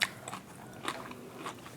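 Close, quiet biting and chewing of plain bean sprout rice, with a few soft crunchy bites spaced out over a couple of seconds.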